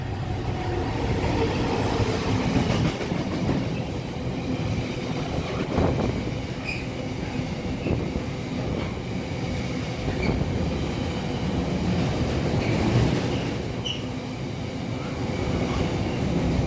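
A four-coach train at Stafford railway station rumbles steadily through a continuous, loud roar of wheels on rails, with faint squeals and clicks rising at moments and no talk.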